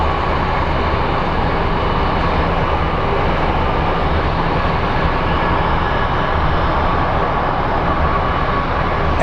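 An airliner arrives on its flight in from San Diego at Phoenix Sky Harbor, a steady, loud broadband roar with a low rumble that holds evenly throughout with no voices.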